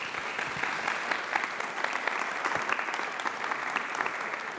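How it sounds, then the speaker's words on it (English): An audience at a talk on algorithms and AI in workplaces applauds, a steady, even wash of many hands clapping at medium distance, holding at a constant level throughout without speech. "so please an applause maybe."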